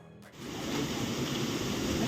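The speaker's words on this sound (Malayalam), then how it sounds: "തൂമഞ്ഞു പോലെ വെള്ളം വീഴുന്ന ഇരച്ചിൽപ്പാറ വെള്ളച്ചാട്ടം വളരെ ഫേമസ് ആണ് നമ്മുടെ മൂന്നാറിൽ" Erachil Para waterfall in Munnar, a steady broad rush of falling water swelling in after a brief quieter moment and holding constant.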